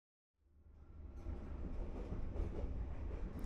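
A night train runs on a railway line through the built-up area around Saigon, Vietnam, its steady rumble of wheels and carriages building in from silence and holding as a continuous close roar with no voices.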